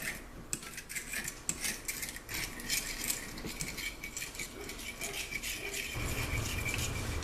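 A spoon stirs and scrapes through a bowl of mayonnaise, yellow mustard and Worcestershire sauce, making steady close clinking and rattling of metal against dish throughout.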